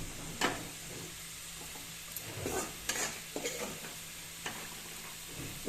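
Potatoes fry with whole cumin seeds in hot oil, a continuous moderate sizzle up close with a few sharp scrapes and clinks of stirring, no voices over it.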